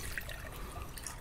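Distilled water pours steadily into a measuring cup for coolant mixing, a brief continuous close splashing gush with no talking.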